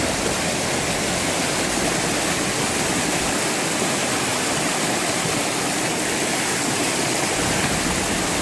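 A 2015 Jeep Cherokee Trailhawk drives through river water, producing a loud, continuous rushing wash of splashing water that covers everything and holds steady without a break, close up.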